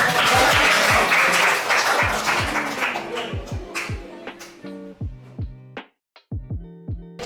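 Class audience applauds a group presentation at a history teaching-practice session, the clapping loud and dense at first, then thinning into scattered claps with low tonal thuds and a brief gap near the end.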